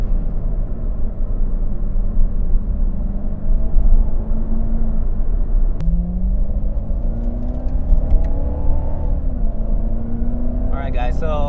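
Corvette C7 Z06 sports car engine droning and pulling under acceleration from inside the cabin, a steady loud rumble with rising pitch through a gear change, while someone talks over it.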